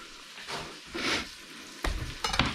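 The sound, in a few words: beef chunks sizzling while stirred in stew pot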